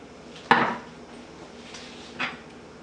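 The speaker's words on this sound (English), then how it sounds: "Stir it well." A spoon knocks against a pot of eggplant peanut curry with tamarind juice while it is stirred, two distinct clinks roughly two seconds apart over a quiet background.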